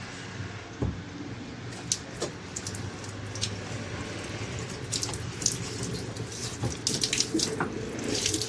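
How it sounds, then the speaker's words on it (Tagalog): Water gushes steadily from a tap at the inlet of a Samsung automatic washing machine that is being tested for a water-fill fault, a continuous close hiss and splash with small clicks and knocks. "Check natin yung inlet kung may tubig."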